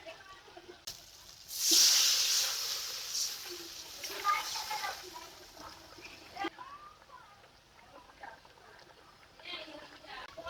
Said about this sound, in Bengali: মশলার সঙ্গে আলুটাকে একটু নাড়িয়ে চেয়ে নিয়েছি এখন জল দিয়ে দেবো